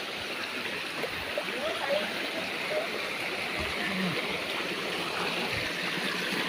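A river in Florida, Masbate flows steadily with a continuous broadband rush and gurgle, fairly close and unbroken throughout, with no talk over it.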